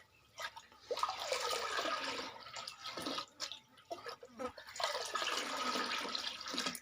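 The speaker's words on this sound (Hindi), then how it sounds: "ऐसे आपने एक डब्बा लेके इसको फेंट लेना है अच्छी तरह पानी को" Water is stirred and sloshed by hand in a container while mixing a poultry vaccine, coming as soft swishing, splashing bursts with brief pauses between them.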